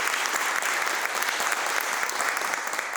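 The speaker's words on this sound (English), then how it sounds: "let's give them all a round of applause" An audience at a Year 8 grand final debate applauds the six debaters: sustained, even clapping from a full room, loud and continuous with no talk over it.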